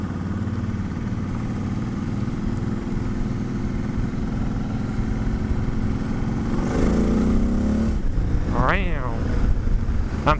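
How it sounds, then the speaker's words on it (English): Vehicle engine pulling a trailer speeds up, a steady motor drone rising in pitch and loudness near the end, with a person talking over it. "I'm accelerating fast."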